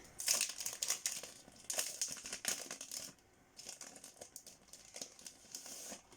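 Plastic packaging around craft stencils is opened close up, with irregular crinkling and crackling bursts and a short lull partway through, and no talk.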